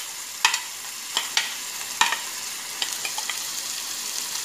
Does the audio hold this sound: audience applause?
no